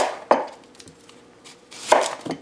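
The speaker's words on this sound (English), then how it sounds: "1 small onion. We're gonna chop this up in nice little chunks." A knife chops a small onion into chunks on a board, giving a few sharp, close thumps spaced unevenly with quieter cuts between, and no voices.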